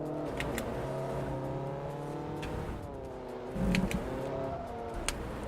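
A racing car engine in a video game drones steadily throughout, rising and falling with acceleration and a brief louder surge midway, with faint tire noise and no talk.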